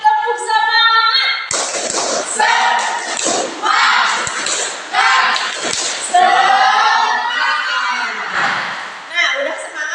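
A class chants in unison in Indonesian while rhythmic claps and taps punctuate the beat, loud and close throughout.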